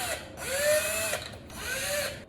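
A cordless power drill whirs close and loud in two short bursts, its whine rising as it spins up, then settling and dropping away between runs.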